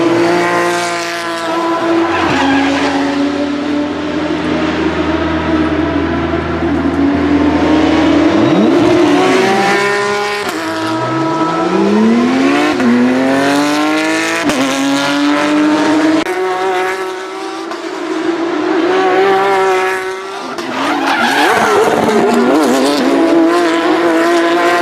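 Race cars roar past with high, shifting engine pitch as one car spins out, with sweeping revs and tire squeal layered loud and close throughout.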